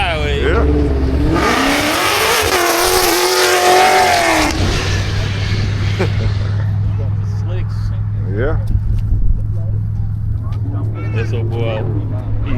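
An old Ford Mustang Cobra with a 5.0 engine revs hard nearby, its pitch climbing and falling over several seconds before settling to a low idle. Background voices and street noise come in as the engine quiets.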